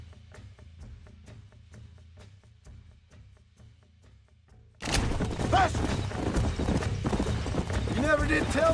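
Horses in Red Dead Redemption, a video game, clop along in a steady hoofbeat rhythm, then a louder burst of galloping rushes in with shrill neighs and whinnies rising over the thundering hooves, with voices talking.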